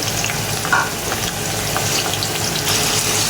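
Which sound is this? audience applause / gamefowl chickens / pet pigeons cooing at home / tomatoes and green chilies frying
tomatoes and green chilies frying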